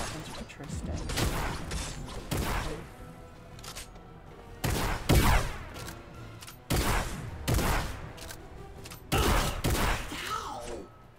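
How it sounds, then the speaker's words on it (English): Gunfire in the video game Fortnite comes in several separate loud bursts of sharp shots with mechanical clatter between them, while a person talks intermittently. "Someone's shooting at me."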